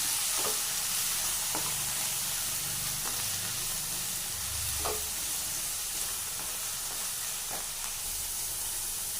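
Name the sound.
sautéing brinjal in a pan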